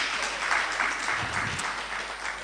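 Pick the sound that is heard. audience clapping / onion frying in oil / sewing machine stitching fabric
audience clapping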